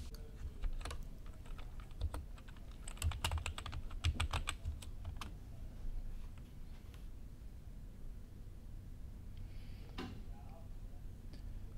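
Keystrokes on a computer keyboard as a student ID number and password are entered at a login screen, a burst of close clicking taps in the first half over faint room noise, then quieter.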